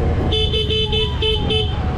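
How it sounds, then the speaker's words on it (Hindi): A car on a road in Haridwar honks in a run of short, evenly spaced toots over steady loud traffic rumble, fairly close, with no talk over it. "गाड़ी आ रही है"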